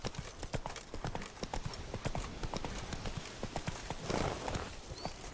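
Roach, the horse in The Witcher 3 Blood and Wine, gallops with a rapid, even clip-clop of hooves throughout, close and continuous.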